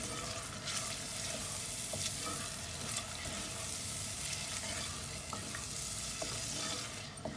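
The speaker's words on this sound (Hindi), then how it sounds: "अब इनको भूनना है हल्का सा।" Dry spices and tomato puree roast lightly in a pan for whole masoor dal, a dense steady sizzle with occasional soft ticks of stirring, near and without speech.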